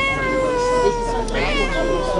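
A cat meows nearby with a drawn-out, wavering cry that rises and falls over about two seconds over faint background noise.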